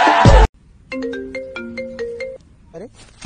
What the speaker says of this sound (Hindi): अरे पापा का फोन आ रहा है।